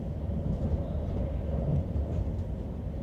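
Interior of a German InterCity-2 double-deck train running at speed, with a steady low rumble and rolling roar filling the cabin, continuous and fairly loud, no talk.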